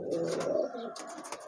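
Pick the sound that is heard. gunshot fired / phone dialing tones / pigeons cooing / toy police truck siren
pigeons cooing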